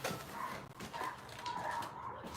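A dog barks and whimpers in short, yipping and whining bursts, fairly close, over steady background noise, with no clear talk.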